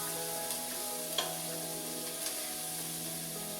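Garlic fries in oil in a pan with a steady, even sizzle, broken by a few faint clicks of stirring, with no voices.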